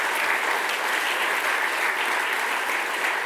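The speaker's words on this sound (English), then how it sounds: "I would like a round of applause to Cisa as well" Sustained applause from a conference audience at an opening ceremony in Athens, a steady dense wash of clapping at even loudness with no voices on top.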